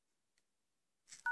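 Keypad tones from the dialer on a Motorola Moto G smartphone while a code is entered: a faint tick, then a soft press and a clear, steady dial tone at the end.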